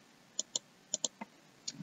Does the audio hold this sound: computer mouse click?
yes